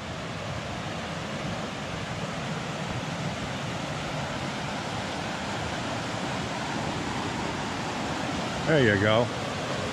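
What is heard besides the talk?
Dosewallips River water flowing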